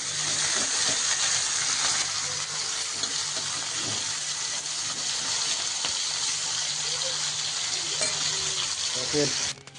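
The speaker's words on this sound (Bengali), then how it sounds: "আর এদিকে কড়াইতে তেলও দিয়ে দিয়েছি মাছটা দিয়ে দেবো" Oil heating in a wok before fish goes in sizzles loudly and continuously, with a few soft clinks near the end.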